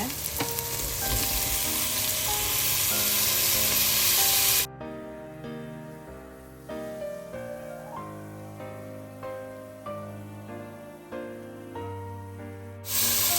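Onions and tomatoes for paneer biryani sizzle in a hot pan for a few seconds with a steady hiss, then the frying drops away beneath background music.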